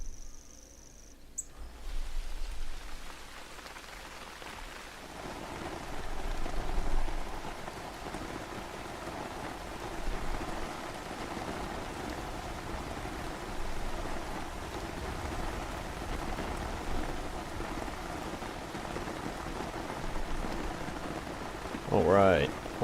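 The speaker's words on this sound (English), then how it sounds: "Why is it raining?" Rain falls at night in the hunting game theHunter: Call of the Wild, a steady even hiss of drops on surfaces that fills the whole stretch after a quieter opening, with a brief sharper noise near the end.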